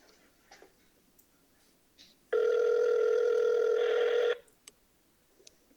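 Quiet faint clicks, then one sustained electronic ringback tone of about two seconds, followed by more scattered small clicks.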